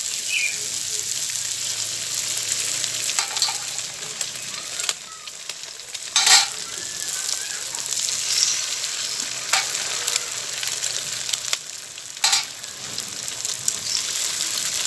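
Eggs for egg bhuna rice fry in a pan, giving a steady close sizzle with stirring and a few sharp scrapes and clinks spread across the sound.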